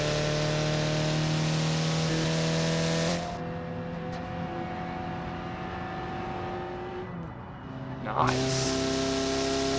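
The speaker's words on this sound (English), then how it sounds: "You'll be able to hear the supercharger real good on the hood." A supercharged truck engine in the BeamNG driving game runs steadily with a loud, continuous mechanical whine and sustained tonal drone, easing back briefly before surging again near the end.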